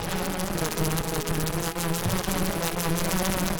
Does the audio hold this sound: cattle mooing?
no